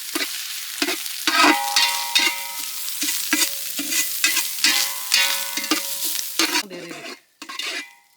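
Grated coconut frying in a pan for a Kerala-style varutharacha chicken curry, cooked village style, is stirred with rhythmic scraping spoon strokes over a soft sizzle, close up, before it briefly quietens near the end.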